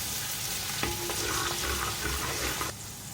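Garlic and ginger paste sizzles in a hot pot with onions, a brief, close frying hiss broken by a few light clinks from a stirring spoon.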